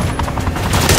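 Loud, sustained automatic gunfire from the video game Call of Duty Modern Warfare III, dense overlapping bursts of shots rattling continuously without a break.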